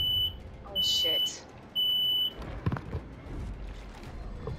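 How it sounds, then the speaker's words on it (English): A smoke alarm sounds three loud, shrill beeps at a steady pace, followed by a person speaking and some handling noise. "My fucking smoke alarm."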